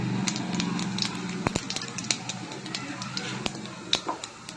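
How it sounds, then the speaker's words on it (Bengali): Whole garam masala (cardamom, cinnamon and cloves) with cumin seeds sizzles in hot oil in a wok, a steady close hiss scattered with sharp pops and crackles, while a voice talks over it. "এখানে তেল গরম হয়ে গেছে আর এখানে আমি দিয়ে দিচ্ছি একটুখানি গোটা গরম মশলা এলাচ দারুচিনি লবঙ্গ"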